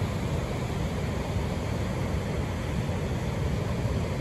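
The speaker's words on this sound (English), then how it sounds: "Not a river now, that's a creek." Evolution Creek churns along the John Muir Trail in Evolution Valley, a loud, dense, unbroken rush of water close by, with no voices over it.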